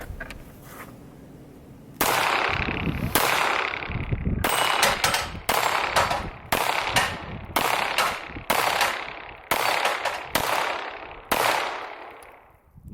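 A CZ SP-01 Tactical pistol emptied at steel targets from about 20 to 25 yards outdoors: around ten loud, sharp shots in a steady rhythm, each with a ringing tail, after a short quiet lead-in.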